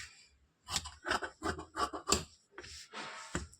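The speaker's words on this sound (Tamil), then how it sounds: "இந்த லென்த்து பீஸை இப்படி கட் பண்ணிக்கலாம்." Scissors snip through a piece of blouse fabric in a series of short, crisp cuts, close and quiet, followed by a longer sliding cut.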